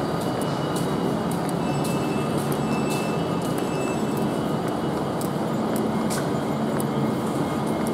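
Steady, loud rumbling hum of an Avanti West Coast Class 390 train at London Euston station, a continuous broadband drone with faint high hiss and no voices, holding level throughout.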